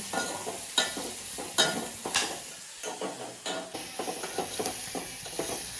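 Onion frying in a pan on a home stove for a Holi meal gives a steady sizzle broken by repeated scraping stirs of a spoon, about a dozen strokes, close and loud with no talking.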